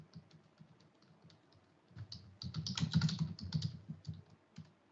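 Keys clatter on a computer keyboard as a reply is typed, quiet scattered taps at first, then a denser, louder burst of typing before slowing again.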